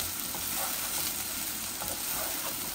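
Onions sizzle steadily in a nonstick pan as they fry for a meat, potato and taro-stem curry, a dense continuous hiss with occasional stirring, close and fairly loud with no talking.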